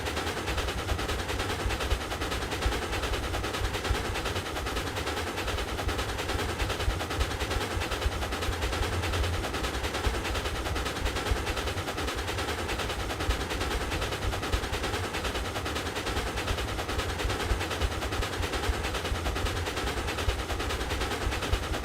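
Steam locomotive running at good speed in the Railroads Online video game, a dense, loud, continuous rumbling chug that holds steady from start to finish with no voices.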